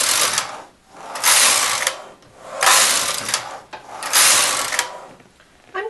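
Knitting machine carriage swept back and forth across the needle bed, with ribber needles up, in rhythmic rattling, whirring passes, about four strokes separated by short pauses, close and clear with no talk.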